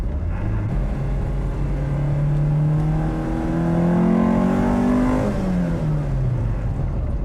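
A freshly rebuilt Acura Integra B18B engine revs up steadily to a high, strained whine around 5,000 to 6,000 rpm, holds, then eases back down, loud and close throughout.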